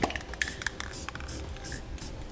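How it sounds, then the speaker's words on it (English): Black spray paint from an aerosol can sprayed around a freshly drilled hole in the bed of a 2008 Ford F-450 pickup, a short run of close hissing spurts with a few clicks of the nozzle. "I'm going to take some black spray paint and spray it around the edge of the hole that I just drilled out"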